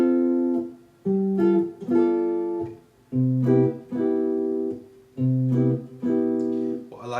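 A guitar strums three easy beginner jazz chords, each ringing for about a second before the next, in a slow, clear, close sequence with no voices.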